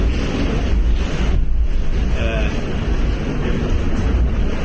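Wind-driven open-ocean waves break and roar continuously at close range beside a racing sailboat, with spray hissing over a steady low rumble of wind.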